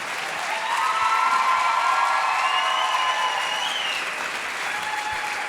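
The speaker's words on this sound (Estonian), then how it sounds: "Suur aplaus palun õpetajatele." Audience applause for the teachers at a school playback show, steady sustained clapping from a large crowd that swells and holds for several seconds with faint cheering mixed in.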